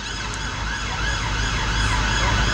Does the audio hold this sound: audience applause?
no